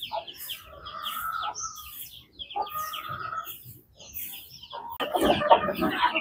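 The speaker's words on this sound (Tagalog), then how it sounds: "nagpapakain si Arnick ng manok" Chickens cluck and call repeatedly while being fed scraps, several birds close by, with a burst of louder scratching and flapping near the end.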